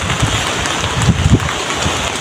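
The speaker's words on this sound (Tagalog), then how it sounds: "Saka yung ulan malakas din." Dense, steady rain pouring down amid strong wind in Quezon, Palawan, Philippines, a continuous hiss with occasional low thumps, loud and close.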